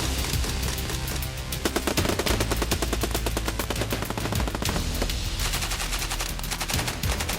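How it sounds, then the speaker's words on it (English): Weapons fire during an Army Ranger School training patrol, dense continuous automatic gunfire with rapid overlapping shots from several weapons, loud and sustained throughout. "an exhausted student accidentally squeezes a trigger and fires on the enemy"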